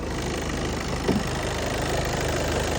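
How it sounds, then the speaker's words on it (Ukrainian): A Skoda Octavia engine idles under the open hood, a steady, even mid-to-low rumble that is heard up close and continuously with no revving and no talking. "покажемо зараз вам під капотку автомобіля. Працює рівненько, без зауважень"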